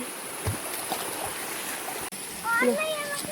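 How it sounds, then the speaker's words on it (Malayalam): A small waterfall splashes into a stream with a steady rushing wash, and a voice rises briefly near the end. "ഈ ചെറിയൊരു വെള്ളച്ചാട്ടം മാത്രമേ ഉള്ളൂ"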